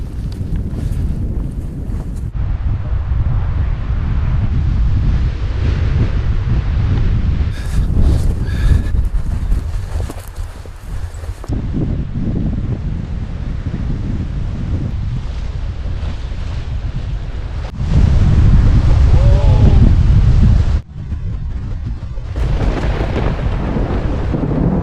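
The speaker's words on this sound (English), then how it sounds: "behind me is quite the thunderstorm. Here comes the wind. Oh, it's already started on the lake. Hear it?" Wind and a thunderstorm building over a lake at a wilderness campsite: loud, continuous roaring gusts buffet the microphone, with rolling thunder rumbling underneath and shifting in strength throughout.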